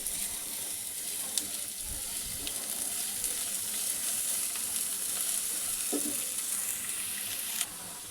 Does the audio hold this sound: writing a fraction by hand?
no